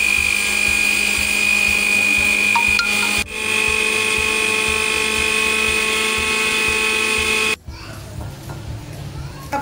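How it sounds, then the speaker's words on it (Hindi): Roasted spices whirring in a mixer grinder, a loud, steady high-pitched motor drone running for several seconds, its pitch shifting once partway through before it cuts off abruptly near the end, followed by quieter room noise. "इसके बाद फिर हमें इसको पीसना होगा"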